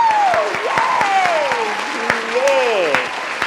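Applause mixed with whooping and a voice over it at an entertainment-news show, steady clapping throughout with a singing or sliding voice on top.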